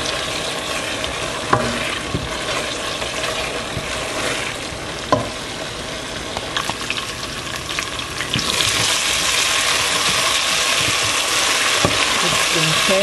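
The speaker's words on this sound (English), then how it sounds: "Stir frequently until all is cooked." Fufu corn with njama njama (huckleberry greens) frying in a pot while being stirred, a steady broadband sizzle with scraping strokes and a few sharper knocks, growing denser and louder toward the end, no talking.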